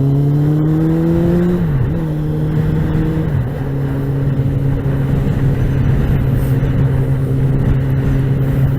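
A Suzuki motorcycle engine idles close up, loud and steady, with a brief rev and drop early on before settling back into an even running drone.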